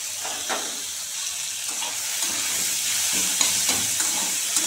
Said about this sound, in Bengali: এবার এগুলোকে ভালো করে নাড়িয়ে চাড়িয়ে মানে একটু থেতো থেতো করে দিতে হবে খুন্তি দিয়ে।